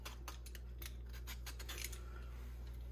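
A vegetable peeler scrapes rind off a lemon in a quick series of short, crisp strokes, close and fairly quiet over a low steady hum.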